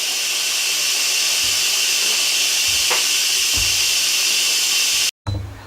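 An Instant Pot pressure cooker vents steam in a loud, steady hiss that runs unbroken for about five seconds, then cuts off abruptly before a brief return; a few faint low knocks sit underneath the rushing sound.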